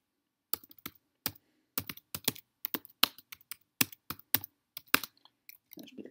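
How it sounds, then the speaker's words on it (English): Fingers type on a computer keyboard in irregular bursts of crisp clicking keystrokes, close and clear, with short pauses between words and no talking over it. "Okay, I guess I'm typing, but you get the idea."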